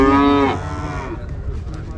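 A cow at a cattle market in Uzynagash, Kazakhstan, gives one long, loud, close moo that fades into low crowd murmur.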